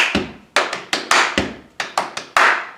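Sharp hand claps in a repeating rhythmic pattern, about a dozen crisp strikes grouped in quick bursts, close and loud with no voices.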